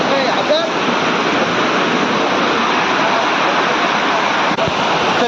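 A village waterfall near Korlai roars as water tumbles from high above, a dense, constant rushing wash that is close and loud for the whole stretch, with faint voices beneath it.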